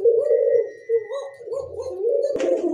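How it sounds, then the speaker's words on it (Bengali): Short-faced pigeons cooing at close range, a steady low warbling coo that rises and dips over a few seconds, with a faint soft knock near the end. "এই যে দেখেন শর্ট ফেস কবুতর, দেখার মতো"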